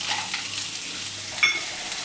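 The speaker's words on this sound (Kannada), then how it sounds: "ಶುಂಠಿ ಇಷ್ಟನ್ನು ಹಾಕ್ಕೊಂಡು ಎಣ್ಣೆಲಿ ಫ್ರೈ ಮಾಡ್ಕೋತಾ ಇದ್ದೀನಿ." Ginger, garlic and spices frying in hot oil for paneer butter masala, giving a steady, fairly quiet sizzle with one short clink of a utensil partway through.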